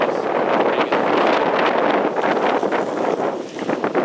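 Steady outdoor wind gusting against the microphone in an outdoor kitchen setting during onion cutting, a continuous loud broadband rush with slight swells and no speech.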